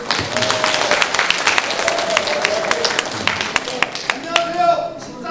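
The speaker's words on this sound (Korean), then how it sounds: "자, 박수 한번 주세요." Audience applause at an orientation gathering of newly elected delegates, loud and close with crisp individual claps, continuing for several seconds before thinning out as a voice begins over it.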